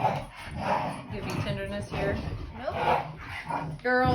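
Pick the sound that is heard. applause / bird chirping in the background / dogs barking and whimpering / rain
dogs barking and whimpering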